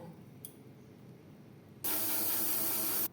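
A pressure cooker whistle blasts steam as banana flower cooks, a loud, steady hiss that cuts in abruptly after quiet kitchen background and holds for over a second before stopping sharply.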